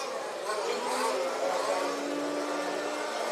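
Large-scale off-road RC racing cars at a European championship event drive past with a continuous buzzing engine whine that rises and falls as they rev, loud and steady throughout with no talk.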